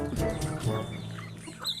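Native hens cluck nearby in a short run of low, throaty calls, close and fairly soft, with a faint chirp at the end.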